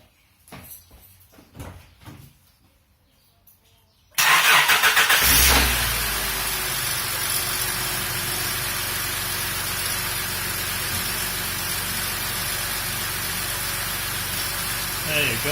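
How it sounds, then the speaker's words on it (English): A Honda Elysion V6 car engine cranks and catches after some quiet handling noises, then settles into a steady, fairly loud idle hum that continues for the rest of the clip. "start the car."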